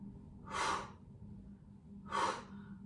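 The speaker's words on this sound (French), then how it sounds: "on va souffler, souffler quand on met les bras devant et inspirer quand les bras passent derrière dans le balancier" Two slow, audible breaths during a swinging-arms relaxation exercise, each a soft airy rush lasting about half a second, spaced well apart over a quiet background hum.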